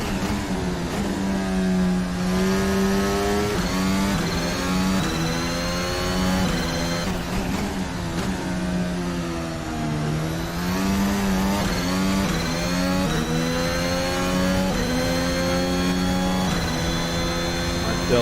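Race car engine in a VR racing video game, droning and revving steadily with rising and falling pitch as the car shifts and accelerates, continuous and loud throughout.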